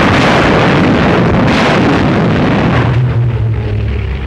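Artillery fire and explosions from the Italian invasion of Abyssinia roll together into one loud, continuous, booming roar that fades a little near the end, with no voices.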